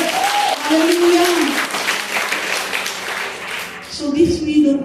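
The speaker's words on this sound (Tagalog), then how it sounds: "Palakpak para kay Lord." Church congregation clapping for the Lord during a Sunday worship service, a steady wash of applause with voices calling out and a sustained sung or shouted tone over it, swelling again near the end.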